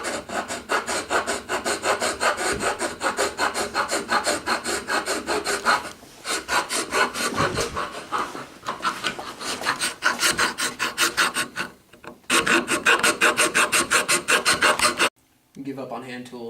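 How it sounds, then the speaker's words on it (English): An aluminum wheel rim is hand filed to fit a go-kart tube. Rapid, rhythmic, close rasping strokes run continuously with a few short pauses, loud and alone. "so we're gonna have to grind a little bit off"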